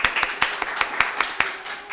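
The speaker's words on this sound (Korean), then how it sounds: "우리 먼저 박수로서 환영을 하도록 하겠습니다" A church congregation at a New Year thanksgiving Sunday service claps in welcome, with sharp, evenly spaced handclaps in a steady rhythmic beat, fairly close and clear with no talking over it.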